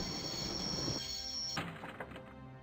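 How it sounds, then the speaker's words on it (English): A train in the video game Broken Sword rumbles with a steady high whine, then a heavy clunk gives way to rattling carriage noise. No one talks. "I'd always wanted to stop a train, and now was my chance."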